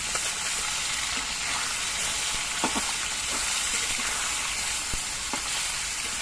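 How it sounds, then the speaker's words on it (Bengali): Fresh mixed Ganges river fish fry in hot oil with a steady, close sizzle and scattered soft pops and taps, continuous from start to finish. "মাছগুলো আমি মাঝারিভাবে ভেজে নেব"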